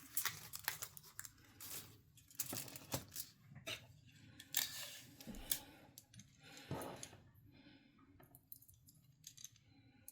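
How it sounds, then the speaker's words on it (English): Scotch tape is pulled and pressed down to secure a speaker-wire feed line on a homemade aluminum foil antenna, giving quiet intermittent crinkles, rips and clicks close by with short pauses between. "secure the feed line with the Scotch tapes"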